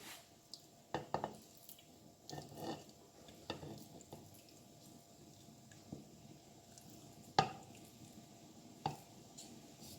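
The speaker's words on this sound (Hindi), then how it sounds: "अब चिकन को चॉप करेंगे।" Chicken with mint leaves is chopped with a knife on a board for homemade nuggets, giving irregular sharp chops spaced a second or so apart, close and fairly quiet over faint kitchen background.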